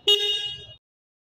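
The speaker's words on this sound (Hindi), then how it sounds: "चलिए हॉर्न का आवाज़ भी एक बार सुन लेते हैं।" Single electric horn of a 2023 Bajaj Pulsar N160 motorcycle with a 164.28 cc oil-cooled fuel-injected engine, one short, loud, close honk lasting under a second and then silence.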